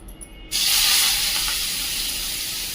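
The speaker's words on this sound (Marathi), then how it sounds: "ही मिरची आपण बारीक करून घेतली ती त्यामध्ये छान अशी परतून घेणार आहोत आपण" Chopped green chillies hit hot oil with asafoetida for a mint thecha, a sudden loud broadband hiss and sizzle that starts after a short quiet moment and holds steady and close, with no voices.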